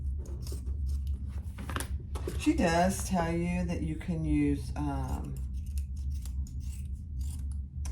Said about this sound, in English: Just cut off your excess zipper tape.